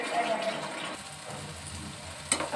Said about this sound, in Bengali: মাছে কষানো হয়ে গেছে চারিদিক দিয়ে তেল বেরিয়ে গেছে